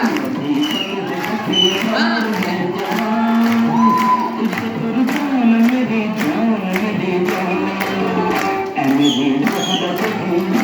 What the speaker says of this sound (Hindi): तालियां बनती है जोरदार।